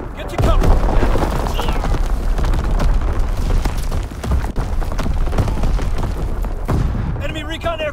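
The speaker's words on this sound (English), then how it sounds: "Incoming enemy artillery! Get to cover!" Incoming artillery explosions in Call of Duty: WWII, booming blasts and scattered gunfire filling a loud battle soundscape, with game voices shouting alerts over the din.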